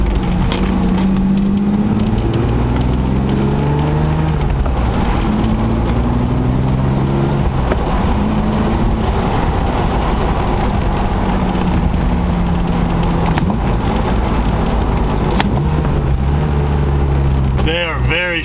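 A BMW E36 M3 with a Dinan short throw shifter being driven, its engine droning loudly inside the cabin and climbing and dropping in pitch through repeated gear changes, with someone talking over it.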